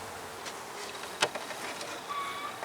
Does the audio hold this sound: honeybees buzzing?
yes